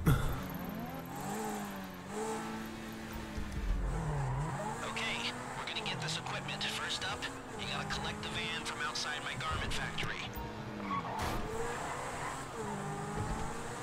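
A car driving in GTA Online, its engine droning and rising and falling through repeated gear changes, with tire noise, while people talk over it throughout.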